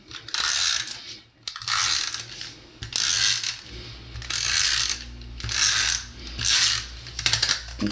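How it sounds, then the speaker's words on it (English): A handheld adhesive tape runner gluing paper down for a craft project, rasping and clicking in about six repeated strokes, each a short ratcheting burst close to the microphone. "Then we're going to glue this down. And I'm going to use my tape runner to do that."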